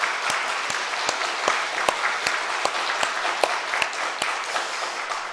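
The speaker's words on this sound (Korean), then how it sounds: "그 영광의 하나님께 우리 다시 한번 감사와 여러분 영광의 박수를 올려드리도록 하겠습니다" A church congregation applauds together during an Easter Sunday worship service, a steady wash of clapping with sharp, evenly spaced accented claps cutting through, at moderate volume with no voices.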